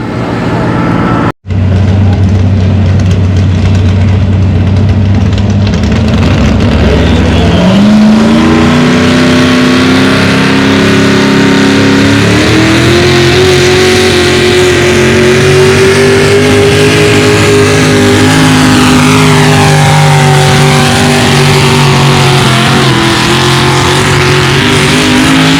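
A pulling tractor roars loudly through a tractor pull pass, the engine note climbing and revving hard under heavy load, continuous and close, with a brief dropout near the start.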